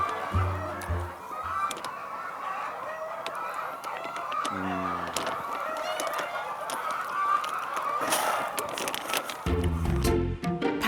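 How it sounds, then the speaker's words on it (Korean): Free-range chickens wander inside a barn on a Jeju animal-welfare farm, with a rooster crowing and hens clucking in scattered bursts over a low, busy background of the flock. "이곳에서 사육되는 닭들은 축사 안에서 자유롭게 돌아다닙니다"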